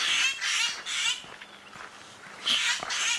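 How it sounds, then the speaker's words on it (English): Birds alarm calling at a boomslang snake in a tree, harsh repeated squawking bursts in a rhythmic series, then a short pause and another burst, fairly close and loud against quiet bush. "there's a lot of bird activity at the moment"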